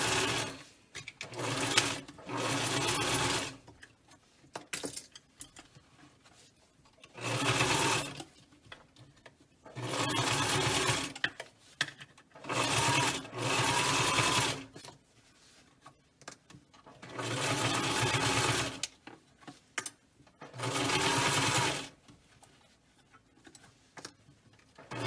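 A sewing machine stitches a generous quarter-inch seam on a fabric mask, sewing forward and back at each end, in loud rapid bursts of a few seconds separated by quiet pauses.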